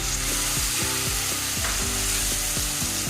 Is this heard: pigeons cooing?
no